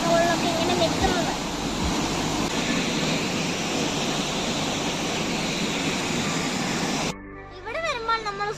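Water rushes loudly and steadily over the rocks at Thommankuthu waterfall in Idukki, a constant close roar that suddenly quiets near the end, when a voice briefly speaks.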